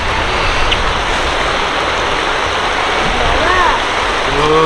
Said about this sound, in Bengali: এই লিডার নদী কাশ্মীরের এক পাহাড়ি নদী।